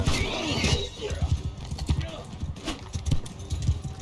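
Horse hooves clip-clop rhythmically in Mount & Blade II: Bannerlord, fairly close and steady, mixed with game noise while someone talks over them.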